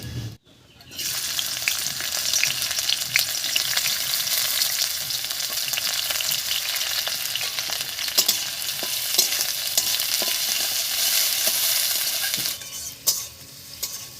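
Chopped onion hits hot mustard oil in a kadai and bursts into a loud, dense, continuous sizzle, stirred with occasional metallic scrapes and clinks, close and sustained before fading near the end, with no talking.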